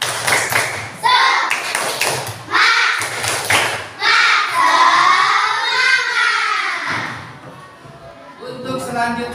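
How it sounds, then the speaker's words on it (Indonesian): A classroom of children does a rhythmic spirit clap, tepuk semangat, in Samarinda: several bursts of group clapping and thumps in a patterned beat, with children's voices chanting and talking between and over the claps. "Tepuk semangat."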